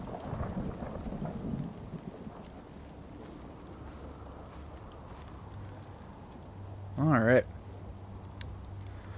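Steady rain patters in a swampy Fallout 4 outpost. Thunder rumbles low, a brief tonal flourish sounds near the end, and someone speaks briefly over the storm.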